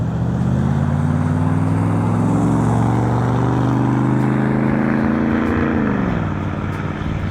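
A 1963 Chevrolet Impala V8 driving away, a loud, steady engine drone whose pitch climbs and then drops near the end as the car pulls off.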